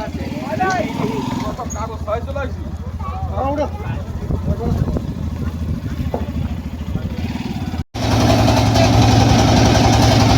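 A trawler boat engine idles with a steady low chugging throb at Nikli Haor, a person talking over it, then the engine noise swells louder near the end.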